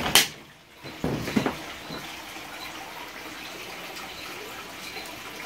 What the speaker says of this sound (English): I'm going to go ahead and kick off this pump.